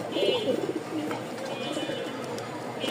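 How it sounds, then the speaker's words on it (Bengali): Rajshahi Giribaj pigeons at a pigeon sale coo softly in short, low bursts, close by under a constant background hum and faint chirps. "আজকে মাত্র আট পেয়ার কবুতর দেখাবো বেশি না শুধু আট পেয়ার কবুতর"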